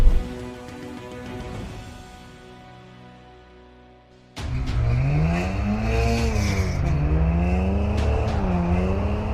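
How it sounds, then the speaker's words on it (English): Rally cars, a Ford Fiesta and a BMW E30, chase on a mountain course: engine fades away, then a sudden loud close engine roars and revs through shifts with tire noise. "we decided to blow off some steam and put my new skills to the test with a car chase through Team O'Neill's sprawling mountain course."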